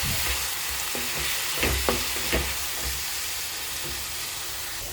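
A pan sizzles steadily with frying spice paste for bhola fish curry, a few scraping stirs popping out over the constant hiss, close and moderately loud.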